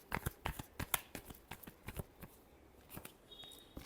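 Tarot cards being shuffled by hand, a quick run of crisp papery riffles and flicks, close and fairly quiet, with a few pauses between bursts.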